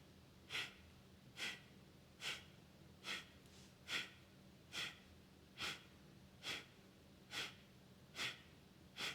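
Throaty, chesty yogic breath of fire during a yoga session, a steady series of about eleven sharp rhythmic exhalations, evenly spaced less than a second apart, close and fairly quiet with a faint low hum beneath.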